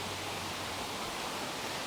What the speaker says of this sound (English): At least the creek is right here